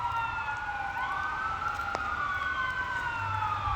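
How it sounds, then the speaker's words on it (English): An ambulance siren wails past on a city street in Cleveland, its tone sweeping and bending as it goes by, loud and steady over a low rumble of traffic, with no voices. "Looks like an ambulance"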